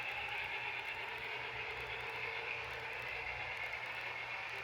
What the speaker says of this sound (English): The other Southwest chief flies by.